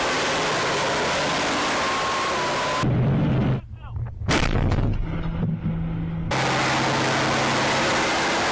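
Heavy shelling from a Russian T-72 tank amid exchanges of fire, loud rumbling blasts with static-like noise, broken by a sudden cutaway of sharper bangs.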